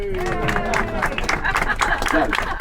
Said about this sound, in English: can I ask for a round of applause for your skipper